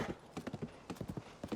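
Horse hooves clip-clop in a Zelda video game, a run of quick, close footfalls in uneven clusters with brief pauses between, heard alone without talk.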